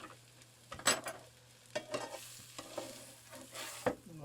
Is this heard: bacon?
yes